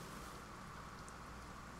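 Thunderstorm rain in the Farm Together farming video game, a faint, steady wash of rainfall hiss with no distinct thunderclap, constant and unbroken throughout.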